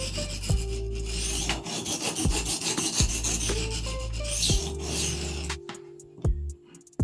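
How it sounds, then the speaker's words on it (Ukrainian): One side of a knife blade is drawn across a sharpening stone in long, even rasping strokes, close and steady, with a few sharper scrapes and a short quiet gap near the end. "Точу цю сторону"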